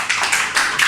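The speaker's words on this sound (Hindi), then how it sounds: "तालियां बजाते हैं" A small group of students in a lecture claps hands in a short burst of a few close, sharp claps, loud and near, with no talking.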